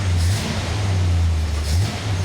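A 1966 Ford Mustang with choke pulled, engine running loud and close, a steady mid-pitched idle with the revs rising and falling in a couple of gentle swells.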